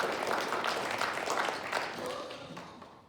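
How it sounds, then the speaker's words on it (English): Audience applause for charity donors at a town hall meeting, a steady wash of clapping from a room of people that holds for a few seconds, then gradually thins and fades toward the end. "So I just want to give everybody a round of applause for donating to this good charity."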